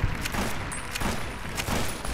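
Gunfire from Fallout New Vegas, several sharp shots at roughly regular intervals over a dense, busy game background with no talking.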